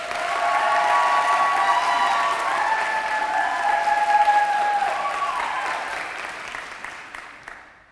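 A school audience gives sustained, loud applause with some cheering as a speaker is welcomed for a senior speech, staying full for several seconds before fading away at the end.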